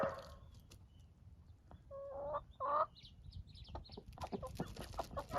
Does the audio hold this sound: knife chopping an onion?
no